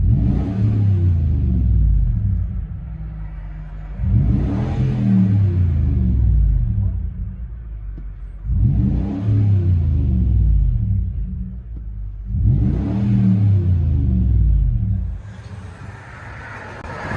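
Lexus GX 470 with a 4.7L V8 and aftermarket exhaust revving hard in four long, deep surges, each swelling and dropping off, loud and close with a low rumbling tone between pulls.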